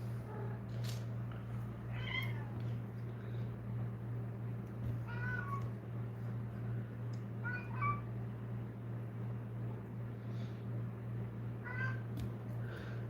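A house cat meows about five times at spaced intervals, moderately close, over a steady low electrical hum with no talking.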